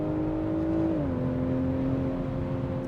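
BMW Z4 M40i roadster engine holding a steady, loud drone, its pitch dropping briefly as an automatic gearbox shifts up, then settling into a constant hum under road noise.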